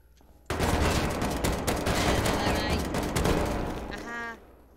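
Rapid bursts of gunfire from the video game Rust, loud and dense for about four seconds after a sudden start, then ending abruptly; a voice is heard briefly near the end.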